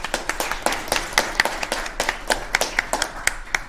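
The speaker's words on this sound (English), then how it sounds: "Everyone, please give them a round of applause." An audience at a general meeting applauds, with a steady run of crisp handclaps from a small group, close and fairly even in rhythm, continuing throughout.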